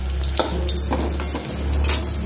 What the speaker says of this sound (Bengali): আর এখানে বেগুন ভাজা হচ্ছে